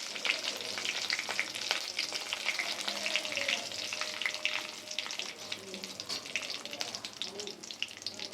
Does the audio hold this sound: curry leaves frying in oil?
yes